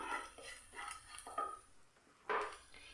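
A spoon stirs two tablespoons of rava dry-roasting in a pan, making a quick run of soft scraping strokes and light metal taps, close and fairly quiet.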